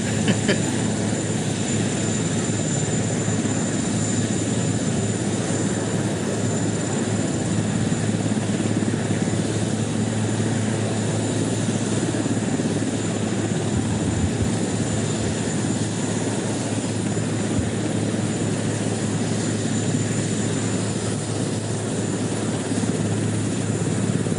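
A steady, loud helicopter rotor drone holds for the whole stretch, unbroken and close, with no voices over it.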